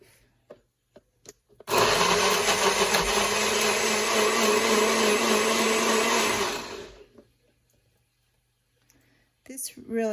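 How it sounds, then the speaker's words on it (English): A NutriBullet blender purees grapefruit in a loud, steady whir lasting about five seconds, preceded by a few clicks and followed by a quick wind-down and more handling sounds. "This NutriBullet really purees things quickly."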